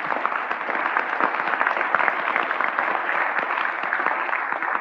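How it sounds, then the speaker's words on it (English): An audience at a tech conference Q&A session claps in a sustained round, a full, even patter of many hands holding steady from start to finish. "if I can get one more round of applause for,"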